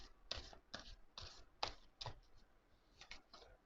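A long, oversized deck of cards is shuffled vertically overhand, giving quiet, close riffling bursts in an irregular rhythm of about eight short flutters.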